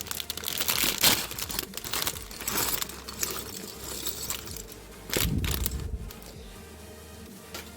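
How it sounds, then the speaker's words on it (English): A plastic bag from a Lego set is torn open and crinkled up close, with bursts of loud crackling and rustling and small parts shifting inside, no voices. "because I don't want to mute every 2 seconds every time I open a bag"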